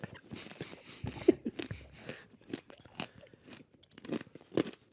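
A hard, crunchy crisp is chewed up close in a run of loud, irregular crunches and bites, with short pauses between mouthfuls and no talk over it.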